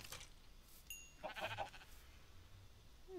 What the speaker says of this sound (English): This sheep has been on my porch for like the last 2 days